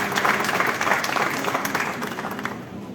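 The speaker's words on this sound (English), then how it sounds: "a huge round of applause for him" Full audience applause at a jewellery industry show gathering, a dense, loud wash of clapping that holds steady, then eases off slightly at the end.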